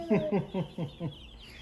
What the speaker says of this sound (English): These are day-old chicks.